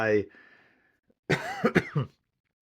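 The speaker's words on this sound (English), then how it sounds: "probably gonna be coughing a lot throughout the episode" A brief vocal sound trails off, then after a pause comes a close, loud burst of several rough coughs in a row.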